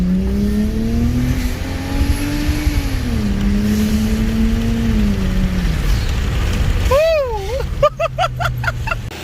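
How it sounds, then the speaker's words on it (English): A Lexus GS300 with a 1JZ-GTE VVT-i engine idles with a steady, close hum and a few gentle pitch shifts, then is blipped into sharp, wavering revs with rapid pulsing bursts near the end. "So the car is turned on right now, and how you would actually know is, well, you can hear it now."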